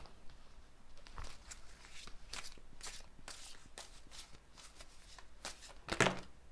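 Oracle cards shuffled by hand in a quiet room, with a run of soft, papery riffles and flicks and a louder slap near the end.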